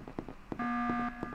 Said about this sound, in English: There's another alarm.